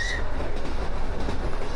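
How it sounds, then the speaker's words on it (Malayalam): Steady rumble and rattle of a train running on rails, heard from on board on a long trip in Poland, a dense continuous roar without clear beats, close and loud, with no talking. "ട്രെയിനിൽ ഇവിടത്തേക്ക് പോവാണ്"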